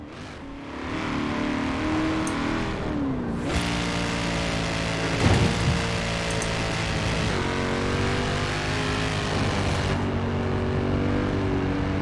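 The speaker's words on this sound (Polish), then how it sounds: "posłuchajcie jak to auto brzmi" Tuned stock engine of a car in the racing game Forza Horizon 4 revving hard and steadily, a loud sustained roar rising and falling through several pitch sweeps, with no talk over it.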